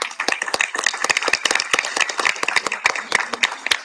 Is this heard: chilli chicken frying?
no